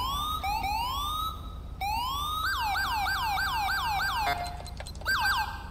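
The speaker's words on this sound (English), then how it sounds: "Just give you a few little siren tones." Police patrol car siren tones in the video game GTA 5 with the LSPDFR mod: a rapid series of rising wails and quick yelping sweeps, loud and close, changing pattern several times before a brief pause and a final burst.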